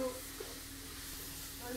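Fish poured into a hot pan of oil, giving a steady broadband sizzle and hiss that holds evenly through the clip at moderate level, with no voices over it.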